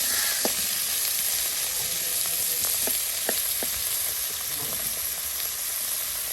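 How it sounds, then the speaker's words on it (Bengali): Crab pieces fry in hot oil in a village kitchen, a steady, close broadband sizzle with occasional light pops and clinks, with no talk. "বৌদি এই কাঁকড়া ভেজে নিচ্ছে"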